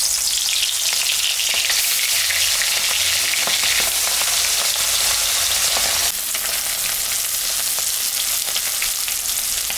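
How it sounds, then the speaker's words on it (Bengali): Pomfret fish seasoned with salt and turmeric frying in hot mustard oil, a steady loud close sizzle with crackling pops throughout, no voices. "মাছটা এখন আমি ভাজে নেব।"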